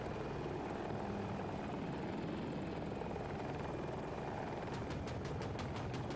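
A KA-520 Super Hokum attack helicopter killstreak on the Hourglass map in a video game: rotor thumps steadily in the distance, a constant whirring drone, joined near the end by a rapid burst of sharp repeated pulses.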